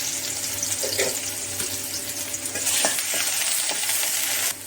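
Onion frying in oil in a pan, a steady bright sizzle with occasional clinks and stirring scrapes, close and continuous with no talk.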